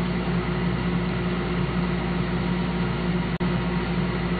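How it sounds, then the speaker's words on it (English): A self-priming pump in a jet experiment setup runs steadily, a constant near hum with a low drone, unbroken apart from one brief dropout near the end. "Turn on the self-priming pump as indicated."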